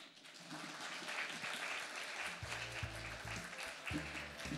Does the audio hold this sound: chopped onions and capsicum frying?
no